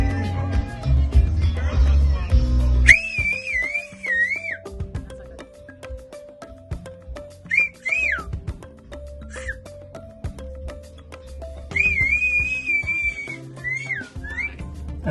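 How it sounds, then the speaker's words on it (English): A person whistles loudly in short warbling bursts, several separate trilling phrases with pauses between, close to the microphone over soft background noise and muffled movement. "You want to record my whistle?"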